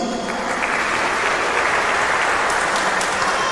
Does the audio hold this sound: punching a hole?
no